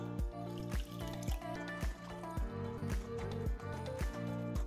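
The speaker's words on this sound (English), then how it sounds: "To this we add the remaining water." Water is worked into bread dough by hand, giving repeated wet squelches and drips in a steady rhythm of about two per second, close and fairly loud.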